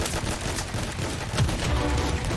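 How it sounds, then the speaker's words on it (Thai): Rapid gunfire in the mobile shooter Hyper Front Mobile: a dense, continuous stream of shots with heavy low-end thumps, loud and sustained without pause. "ทำไมคนนี้ยิงเร็วจัง"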